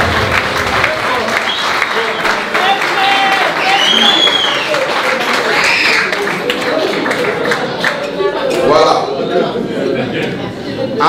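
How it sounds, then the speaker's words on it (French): Wedding guests at a Congolese wedding reception applaud the couple, steady clapping with cheers, whistles and ululation-like cries rising above the crowd noise, and people talking throughout. "Applaudissez pour eux"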